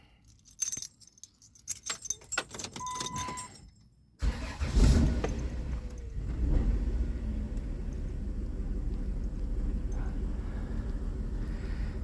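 A Dodge Caravan that has been running rough with white smoke from the exhaust cranks, with keys rattling first, then fires into a steady, close idle rumble that holds on without any talk.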